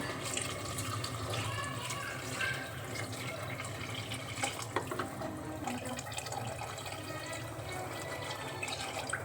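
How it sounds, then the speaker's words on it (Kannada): Water pours steadily into a cooking pot of half-cooked rice for biryani, a soft continuous splashing and gurgling that runs the whole time at moderate loudness, with no one talking. "ಇವಾಗ 1 ಲೋಟ ಅಕ್ಕಿಗೆ 2 ಲೋಟ ನೀರು ಹಾಕೋಣ."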